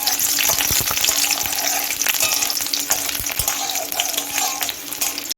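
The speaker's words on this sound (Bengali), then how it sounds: "ডিমটা আমি দিয়ে দিচ্ছি একটু নরম করে ভেজে নেব" Loud, continuous sizzling and crackling of an egg frying in a hot pan, with scattered pops and scraping stirs throughout.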